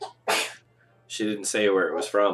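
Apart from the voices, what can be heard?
sneeze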